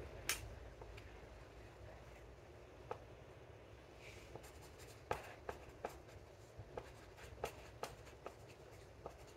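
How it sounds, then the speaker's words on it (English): Pen writing on paper, soft close scratching strokes with scattered light taps and clicks, quiet and intimate in an ASMR therapist roleplay setting. "Let me just write that down."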